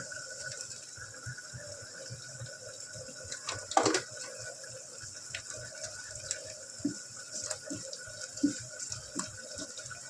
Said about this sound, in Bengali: মিক্সির এটা ধুয়ে দিয়ে দিলাম